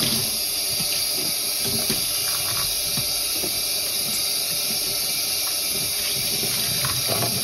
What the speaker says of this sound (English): Some cool tap water.